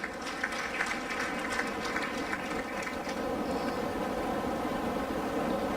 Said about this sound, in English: Let's celebrate the leadership of women by giving them another round of applause.